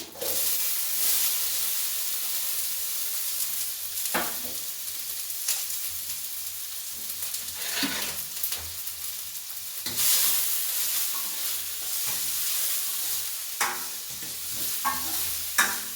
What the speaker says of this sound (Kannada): ಈರುಳ್ಳಿ ಹಾಕ್ಕೊಳ್ತಾ ಇದ್ದೀನಿ ಈಗ